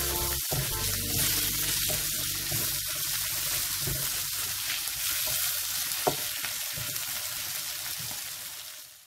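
Rice sizzles and fries in a paella pan with seafood and fish while being stirred, a loud continuous crackling hiss broken by scraping spoon strokes and occasional clinks, close up.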